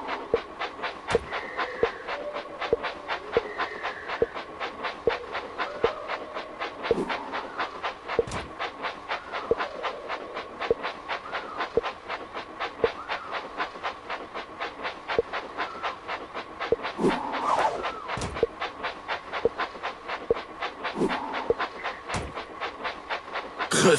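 Toy train set sounds from the Thomas Minis video game: a steady, fast clickety-clack running throughout, with a constant tonal hum and a few brief louder accents, no talking.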